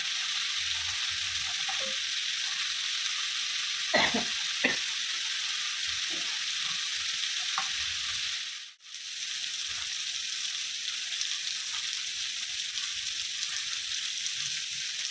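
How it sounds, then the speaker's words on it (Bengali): Onions fry in a pan for an egg and poppy-seed dish, giving a steady, close hiss of sizzling oil with a few scattered spatula scrapes and a brief dip in the sound partway through, and no voices. "পেঁয়াজটা ভাজা হোক"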